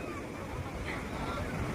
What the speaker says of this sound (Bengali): ঢেউয়ের আওয়াজগুলো বেশ সুন্দর লাগছে শুনতে